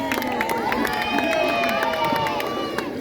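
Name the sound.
audience cheering and applauding at a circus show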